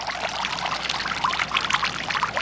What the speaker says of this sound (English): suddenly I was in over the top of my chest waders. Water just pouring in